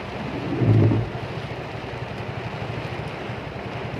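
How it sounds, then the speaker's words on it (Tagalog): Heavy rain with strong wind on a highway near Pulilan, heard from inside a vehicle in traffic: a steady dense wash of rain noise with a brief louder gust or splash early on, no talking. "ang lakas ng ulan"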